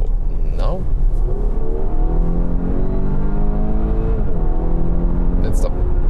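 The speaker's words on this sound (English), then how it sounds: "Here we can also show you a first acceleration. For example, 60 to 100." An Audi A5 Sportback accelerating from 60 to 100 km/h, its engine note climbing steadily in pitch over several seconds beneath heavy cabin and road rumble, heard from inside the car.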